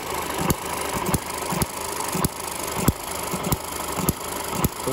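A small engine runs steadily at a fast idle, with a regular rhythmic knock or tick repeating about every half second, close and fairly loud.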